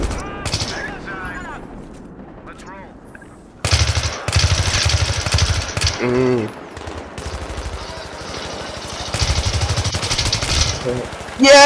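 Automatic weapon fire from a Battlefield 3 co-op match, loud, dense bursts that kick in a few seconds in and run nearly continuously, mixed with game effects and excited shouting from a player.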